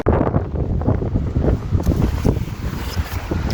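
Strong wind from Storm Bert at a wild campsite buffets the microphone in a continuous loud roar with gusty surges throughout.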